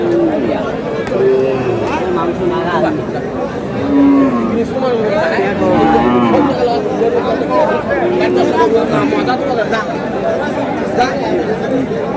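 Thin, bony dairy cows at a livestock market low repeatedly, with several moos rising through a steady crowd chatter and people talking close by.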